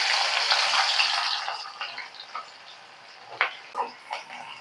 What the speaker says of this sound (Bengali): এখন পেঁয়াজ এবং রসুনটাও ভেজে নেব।